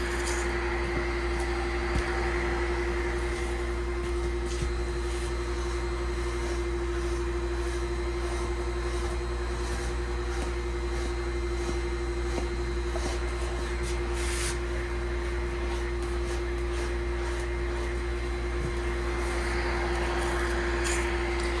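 A dog grooming vacuum with a deshedder brush attachment runs on its low setting, giving a steady, continuous motor hum and airflow whoosh at even loudness throughout, with no talking.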